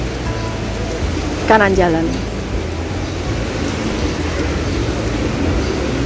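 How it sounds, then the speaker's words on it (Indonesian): Rain falls outdoors along a street in Sha Tin, Hong Kong, a steady wash of patter throughout, with a person speaking briefly partway through. "karena cuaca hari ini kurang bersahabat hujan ya teman-teman"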